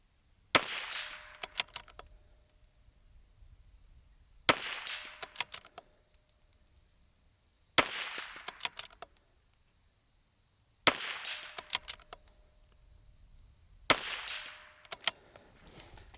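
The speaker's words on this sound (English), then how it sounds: "we are gonna be shooting off the bag, but standing" Rifle shots fired from a standing position off a shooting bag at a bench, five sharp loud cracks spaced a few seconds apart, each with a brief ringing decay into quiet.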